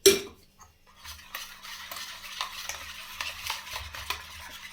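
A spoon stirs dhokla batter with a spoonful of oil in a bowl, giving a soft, steady scraping and swishing after one sharp knock at the start, close and fairly quiet with no speech.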